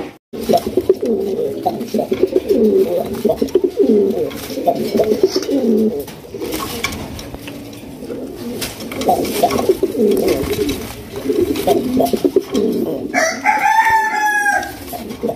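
Pigeons coo at a Bangladeshi pigeon farm, a dense chorus of overlapping throaty coos near and continuous, with a rooster crowing loudly near the end.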